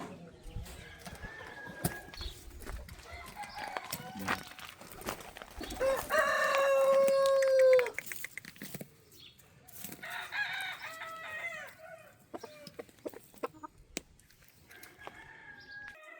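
Bantam chickens cluck and chatter in a yard, with one clear rooster crow in the middle and more fowl calls scattered around it.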